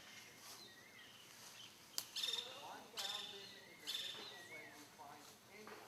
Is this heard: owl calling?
yes